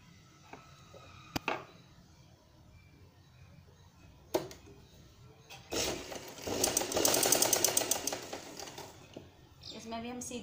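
Sewing machine stitching a straight seam along fabric curtain or sleeve pieces, a close, steady rapid whirring burst lasting several seconds, with a few sharp clicks of handling before it.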